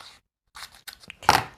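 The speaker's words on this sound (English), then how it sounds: "I'm going to go and cut this more or less straight with my scissors." Scissors snip through wide washi tape to straighten a torn edge, giving a few short crisp cuts close up after a brief pause, ending in one louder final snip.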